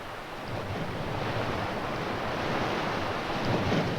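Ocean waves breaking against the shore, a continuous broad rushing wash with gentle swells in loudness, close and steady, with some wind buffeting.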